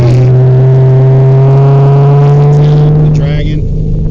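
Car driving a winding, turn-filled road in steady rain, a loud even engine drone close inside the cabin that shifts slightly in pitch, with muffled rustling near the end.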